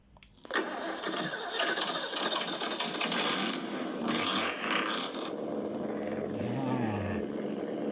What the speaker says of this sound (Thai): ตอนนี้เปิดแล้วนะครับ เปิดแล้วนะครับเริ่มติดเครื่องนะครับ